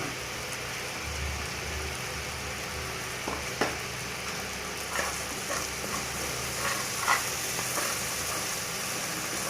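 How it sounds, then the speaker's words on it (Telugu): Salt and turmeric frying in oil in a pan, a steady, soft sizzle with occasional light pops and stirring scrapes, heard alone. "కాస్త ఉప్పు, పసుపు వేసుకునేసి నూనె వదిలేంత వరకు వేయించుకుందామండి"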